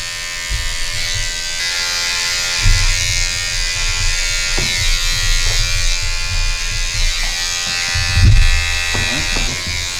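Electric hair clippers buzz steadily while the blade corner cuts a design line into a fade haircut, a close, continuous hum with brief changes in pitch and load as it presses against the hair.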